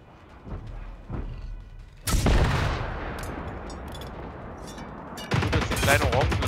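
Rockets and gunfire aimed at the player in the Generation Zero video game: dull thumps, then a loud explosive burst that fades into a long rumble, followed by a second heavy blast near the end, with a voice faintly underneath.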